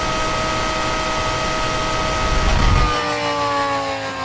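Video game spaceship power charging up and then down, a steady dense whirring hum that swells and then drops with a falling whine, loud and continuous.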